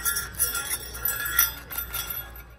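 Small decorative Christmas bells on a store shelf jingle and tinkle in bright, irregular shakes for a few seconds, fairly close and with no voices over them.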